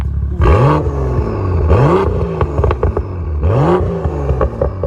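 A BMW M2 with a titanium exhaust revs hard three times in a row in sport mode, loud and close, with throaty exhaust rumble and crackling pops between the bursts.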